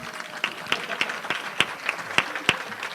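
Applause from an audience at a Rotary club meeting, a spread of steady clapping with a few sharp individual claps standing out, moderately loud and without talk.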